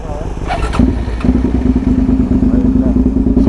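A motorcycle engine cranks briefly, then catches and settles into a loud, throbbing idle close by.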